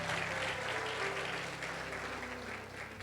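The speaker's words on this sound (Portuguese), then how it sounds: "aplauda mais uma vez o Senhor" A church congregation claps together in praise, a continuous, fairly even wash of applause over a low sustained hum, fading slightly toward the end.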